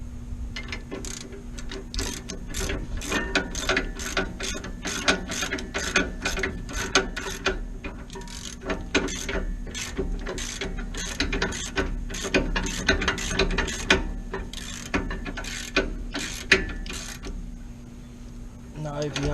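A hand ratchet tightens the rear brake caliper bolts on a Ram 1500, a steady run of quick close clicks and pawl ticks filling the whole stretch, with a voice talking over parts of it.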